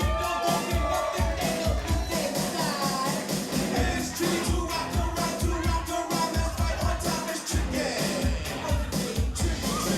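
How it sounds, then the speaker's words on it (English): A wedding crowd at Shephard's Beach Resort cheers and claps steadily as the bridal party enters, a dense, continuous wash of noise with voices mixed throughout. "let's make some noise for Catherine Alears, escorted by Kristen Jackson and Ryan McCutcheon"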